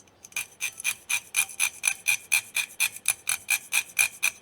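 Steady back-and-forth rasp of a hand file on piston rings, file-fitting them to the bore during a fourth-gen Trans Am engine build; about sixteen even, close strokes in a regular rhythm with no talking.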